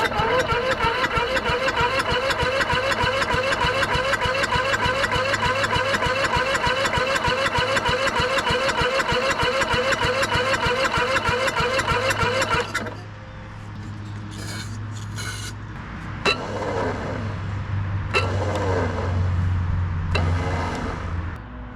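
A lawn mower engine with a dirty carburetor and a weak starter runs loudly and steadily for about thirteen seconds, then cuts out. Scattered knocks and a person talking follow.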